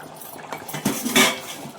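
Metal spoon scraping and clinking against a pot while gongura chicken curry with fresh mint is stirred, a few short close scrapes with one louder clatter near the end.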